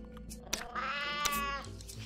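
A cat meows in the survival game Sheltered, a single drawn-out, wavering call standing out clearly over low game background, with a short click just before it.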